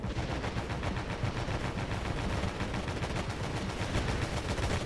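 Sustained, dense gunfire from a vehicle-mounted weapon in the Stormworks video game during an aerial land crawler battle, a loud continuous rattle of rapid shots with no pauses across the whole stretch.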